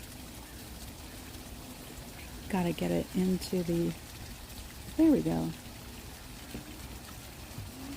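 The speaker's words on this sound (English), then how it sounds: "And there's the waterfall." A small garden waterfall trickles as a faint, steady wash in the background while people talk briefly over it.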